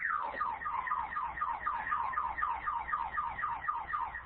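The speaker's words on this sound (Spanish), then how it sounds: "Perdón por la alarma del carro." A car alarm wails steadily in the background, its repeating rising and falling siren pattern continuing at a moderate distance without voices.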